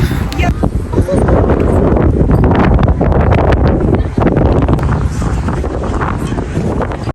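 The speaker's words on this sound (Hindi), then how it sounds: "बहुत ही तेज़ हवा चल रही है और ठंडी भी है" Strong, cold wind at Highland Park in Baku batters the microphone in a constant loud roar and rumble, gusting unevenly throughout, with a voice faintly underneath.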